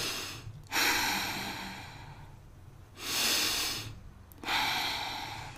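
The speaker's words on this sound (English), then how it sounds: "Take a few deep breaths." Three slow, deep breaths are drawn in one after another, each a loud airy rush up close, separated by quieter pauses, with no speech.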